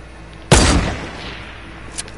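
A single loud, close gunshot rings out in the Fortnite video game, decaying over about half a second, followed by a fainter pop a moment later.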